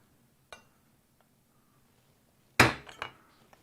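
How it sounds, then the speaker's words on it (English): A center punch strikes a motorcycle gauge to mark it for drilling: one light metallic tap, then a sharp loud clink with a quick follow-up strike, close and alone in a quiet room. "We'll do a little punch."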